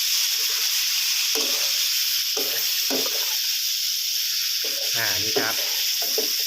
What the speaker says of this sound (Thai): ผัดคลุกเคล้าให้ทั่วนะครับ